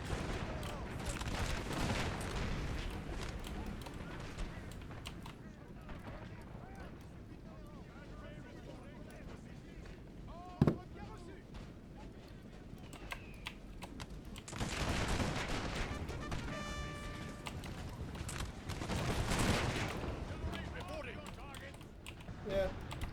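British artillery fire in a Napoleon Total War battle against the French: scattered booms and crackling volleys that swell in louder bursts, with one sharp crack near the middle, under a steady din of battle and game noise.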